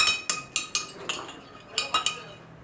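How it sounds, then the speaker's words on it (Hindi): Yogurt whisked in a bowl with a spoon, three tablespoons worth for a chicken broast sauce: quick metallic clinks against the dish in two bursts, about five strokes then a pause and three more, close and clear. "ये 3 टेबल स्पून आपका योगर्ट आ गया। इसको अच्छे से फेंट लें।"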